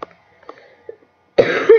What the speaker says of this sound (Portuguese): Desculpa por ter dado uma tossida.